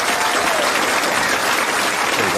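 A crowd at Graceland breaks into loud, dense, continuous applause, steady and close throughout the short stretch, with no voices standing out above the clapping.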